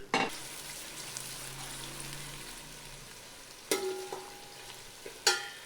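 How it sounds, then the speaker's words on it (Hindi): Onions frying in cooking oil, a steady low sizzle throughout, broken by a few sharp clinks of a utensil against the pot. "कुकिंग ऑयल में प्याज भी डाल दी है"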